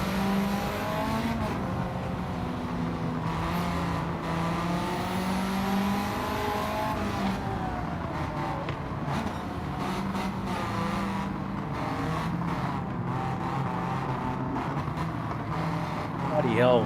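A Toyota Corolla and other cars driving in Forza Horizon 5, with a steady engine drone and rising and falling revs running throughout, while someone talks over it.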